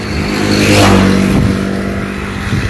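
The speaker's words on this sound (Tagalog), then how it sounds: "mga motor na dumadaan dito" Motor traffic on a busy main road in Hsinchu, Taiwan, with a loud engine sweeping past up close and revving, followed by a steady rumble of passing vehicles.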